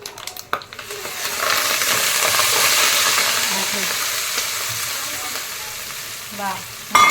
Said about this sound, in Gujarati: વઘારમાં મેથીનો મસાલો ને બધું નાખી દીધું છે.